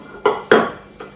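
Metal pots and dishes clatter while being washed in a home kitchen: three sharp, ringing clinks close by, each fading quickly, with no voices.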